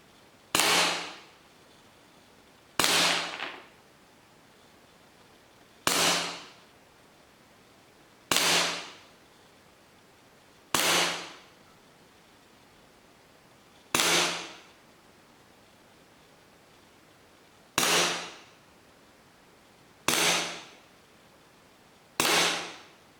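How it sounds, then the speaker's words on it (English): A KWC P.08 Luger BB pistol fired nine times at a slow, steady pace, each shot a crisp snapping pop with a short decaying tail, isolated against quiet room tone. "the KWC Luger shoots extremely well."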